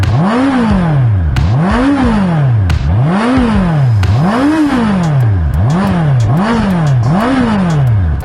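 Honda CB650R four-cylinder motorcycle engine revved repeatedly to about 7,000 RPM: seven loud, close rising-and-falling revs in steady rhythm, each climbing to a howl before dropping back, with no talking.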